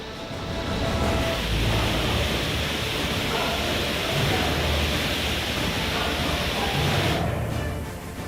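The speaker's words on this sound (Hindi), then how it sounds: "पानी का शोर शरीर में सिहरन पैदा कर रहा है।" Swollen streams and drains after a cloudburst in Pithoragarh district, floodwater rushing in a continuous, loud, dense roar that holds steady throughout with no break.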